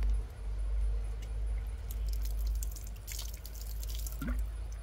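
Outer skin of a banana blossom being rinsed with water, giving scattered drips and small splashes over a steady low hum, close by and fairly quiet.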